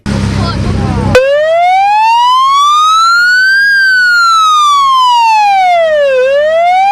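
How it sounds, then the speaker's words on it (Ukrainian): A loud wailing fire engine siren on an AC-40 fire tanker rises and falls in long sweeps, close by, after a brief burst of noise at the start. "І робота пожежної сирени."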